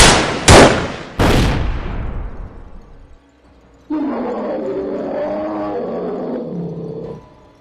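Sound effect of gunshots followed by a bear roar: three sharp, loud blasts with ringing decay, a short silence, then a long, growling roar lasting about three seconds.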